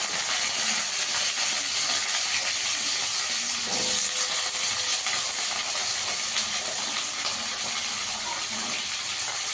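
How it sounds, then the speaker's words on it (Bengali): Cut potatoes fry in a pan tempered with cumin, giving a loud, constant hissing sizzle that holds steady from start to finish. "আলুটা একটু ঢাকা দিয়ে ভেজে নেব।"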